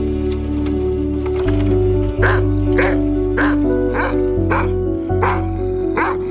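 A dog barks repeatedly in a scene from the Black Mirror episode Arkangel, with sharp yelping barks at a steady rhythm over sustained dramatic music.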